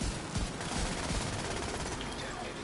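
Rapid gunfire from the video game The Division 2 in a Dark Zone PvP fight, a dense continuous barrage of shots with a voice talking underneath.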